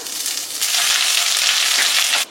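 Whole garam masala, bay leaf and ginger paste frying in ghee: a loud, close, hissing sizzle that swells after half a second and holds steady before cutting off.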